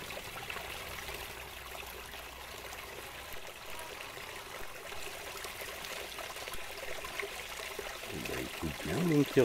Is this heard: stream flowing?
yes